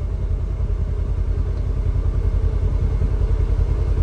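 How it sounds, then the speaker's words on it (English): A 2024 Polaris Xpedition UTV engine runs steadily nearby, a deep throbbing rumble with an even, rapid pulse and no voices. "So we've got that noise and we've got the engine noise"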